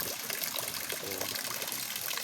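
Steady rain falls during the rainy season around a bitter melon (ampalaya) garden, a close, continuous wash of pattering and trickling water with a faint voice underneath.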